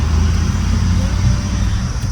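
Road traffic idles and crawls in a jam near Kainchi Dham in the Kumaon hills, a continuous loud rumble of car and truck engines heard from close within the queue.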